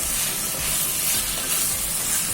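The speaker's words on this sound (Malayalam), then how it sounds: "പൊരിച്ച ചിക്കനും കൂടി നമുക്ക് ഇട്ട് കുറച്ച് സമയം മൂടി വെച്ചെടുക്കാം" Continuous sizzling and frying hiss from pieces of fried chicken cooking in a pan of pepper chicken curry, loud and steady, with faint low bubbling beneath.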